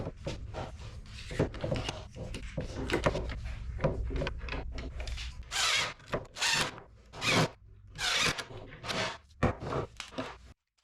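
A power drill whirs in repeated short bursts as wood screws are driven into a pecan wood table base, with rattling and scraping between runs, loud and close.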